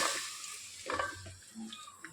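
Chopped tomato pieces tipped into a pot on the stove for tomato dal, giving soft sizzling with a few light clinks of utensil against the pan, close and quiet, with no talking.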